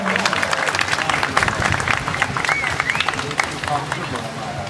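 Applause from a singing-contest audience greets a singer, dense and steady clapping with crowd noise and some cheering running the whole stretch.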